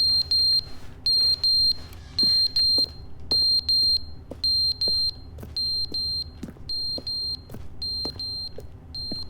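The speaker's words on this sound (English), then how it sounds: "Where's that beeping coming from?" A shrill electronic smoke detector alarm in The Stanley Parable Ultra Deluxe beeps in short repeated bursts, evenly spaced and loud, over faint ticking clicks in the background.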